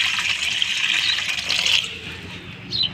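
Water poured through a strainer while making homemade Holi colours, a continuous splashing gush that runs fairly loud, then eases and trails off near the end.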